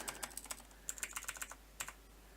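Computer keyboard typing in short clusters of light clicky keystrokes with a brief pause between bursts, quiet and close, with no talk over it.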